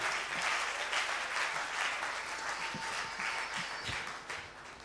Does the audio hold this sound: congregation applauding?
yes